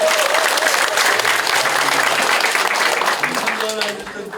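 Warm applause from an audience at a candidate's campaign declaration event, a loud, dense wash of clapping that holds steady for several seconds and then eases slightly, with voices mixed in underneath.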